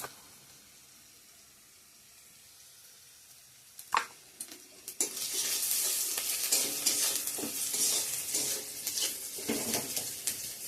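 Bay leaf, dried red chillies and whole panch phoron spices dropped into hot oil, quiet at first, then a sharp crackle and a burst into a loud, sustained sizzle with stirring.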